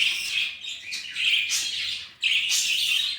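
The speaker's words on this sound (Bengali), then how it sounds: "আর এই হচ্ছে এর ফিমেল পাখিটা" A caged female budgerigar chirps in bright, repeated bursts of high tweets, close and fairly loud, with a brief pause before the calling resumes.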